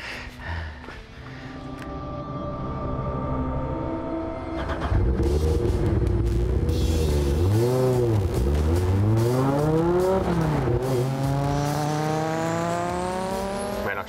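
An Audi S2 super saloon race car revs hard and accelerates, its engine climbing and dropping through several gear changes in a loud, sustained roar with faint tire squeal, close by throughout.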